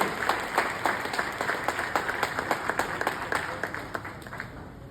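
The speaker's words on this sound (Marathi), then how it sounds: "श्यामराव वागल सर यांच्यासाठी पण एकदा मनापासून टाळ्या झाल्या पाहिजे" An audience applauds to welcome Shyamrao Wagal at a programme, a dense, sustained round of clapping from a moderate distance, steady for the whole stretch with a faint voice beneath.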